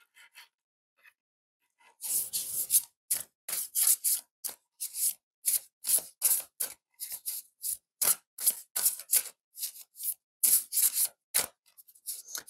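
Oracle cards being shuffled by hand in a rapid string of close, crisp riffling and sliding bursts with short pauses between them; no talking.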